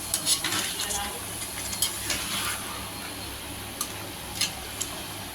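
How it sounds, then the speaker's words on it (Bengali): Spoon stirring meat curry as it boils in a pot on an electric stove, scraping clicks and light bubbling sizzle with a few sharp knocks against the pot, close and steady. "মাংসটা বলক এসে গেছে, এই জন্য একটু নাড়া দিই।"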